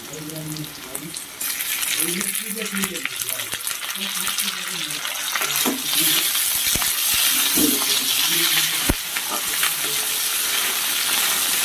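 Chopped tomatoes are added to hot oil in a pan for hotel-style egg chilli and hiss into a loud, steady sizzle with occasional stirring clinks, while a voice talks over the first part.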